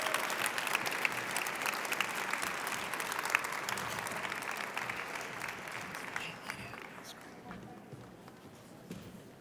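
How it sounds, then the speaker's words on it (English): An audience applauds two speakers after a lecture event, with a steady, full round of clapping that thins out toward the end. "can we have one more round of applause for our 2 brilliant speakers?"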